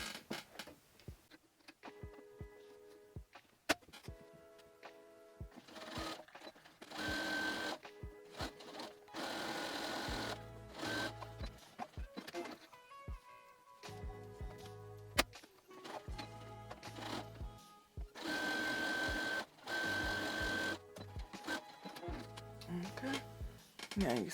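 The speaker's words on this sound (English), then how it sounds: "I'm gonna sew all the way across." A sewing machine stitches across fabric for a homemade garden grow bag, whirring in steady runs broken by short pauses and mechanical ticks, close and clear.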